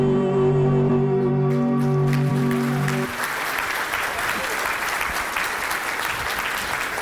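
A hall audience at an opening event bursts into loud, sustained clapping that carries on steadily to the end, after a sung anthem fades out at the start.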